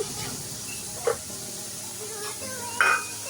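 Sliced onions sautéing in a pan for a Kerala-style beef perattu, a soft steady sizzle with a couple of brief spoon or lid clinks.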